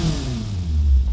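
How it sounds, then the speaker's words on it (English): Honda K24A4 replica inline four-cylinder engine idling in the Automation car game, a steady low rumble with a slight rise in level near the end, heard alone. "now we can fire up this beast here. As you can hear, the engine sounds very normal, very boring"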